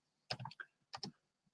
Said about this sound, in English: I'm not brilliant at typing